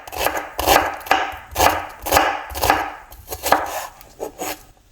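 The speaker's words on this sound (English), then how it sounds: "Finely chop the onion." A knife chops onion finely on a board with close, rhythmic bursts of cutting, about a dozen strokes in quick groups, with no voices.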